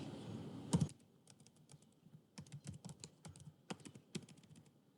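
Keys clatter on a computer keyboard in quick irregular bursts of close, crisp taps separated by short pauses, with a sharper clack near the start and no talking.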